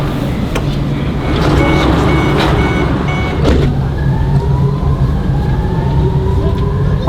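Loud, steady rumble of a packed Shanghai metro train with station ambience, repeated electronic beeps, and a rising tonal whine as it moves.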